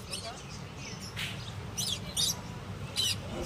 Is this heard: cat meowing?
no